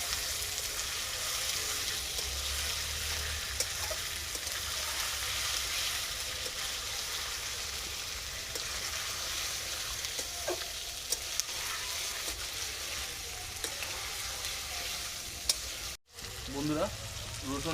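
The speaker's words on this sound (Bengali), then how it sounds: "ম্যারিনেট করে রাখা মাংসটা আমি এবারে দিয়ে দিচ্ছি বন্ধুরা" Marinated chicken sizzles and fries steadily in a hot pan at home, a dense continuous crackle lasting throughout, with a brief cut near the end followed by a few quieter stirring sounds.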